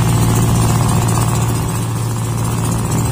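Two boat engines run steadily on a small fishing boat out hand-line fishing for trigger fish, a loud, constant low drone close by with no talk.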